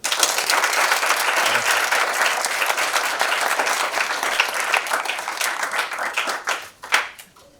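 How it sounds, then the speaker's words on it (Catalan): An audience at a school rugby talk claps steadily in a dense burst that thins out into a few scattered, sharper claps before stopping. "Un aplaudiment."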